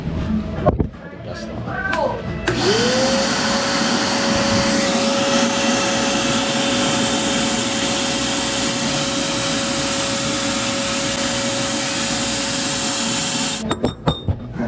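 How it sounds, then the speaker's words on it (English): A vacuum cleaner switches on and runs with a loud, steady whine for about eleven seconds before shutting off, with brief clatter and voices in a workshop around the start and end. "We got this vacuum cleaner here."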